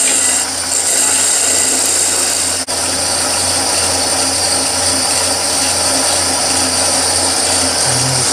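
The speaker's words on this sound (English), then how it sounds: "See if we can part it off without losing it." A wood lathe spins steadily while a turned wooden snowman is parted off, giving a loud continuous whirring hum with one brief dip partway through and no speech.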